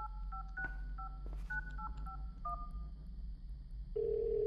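Telephone keypad tones beep in a quick, uneven series of dialing presses inside a spooky Christmas horror game, followed by a steady dial tone, all fairly faint with no talking.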